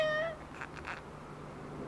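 A house cat gives one short, clear rising meow at close range, followed by quieter soft vocal sounds against a faint background hum.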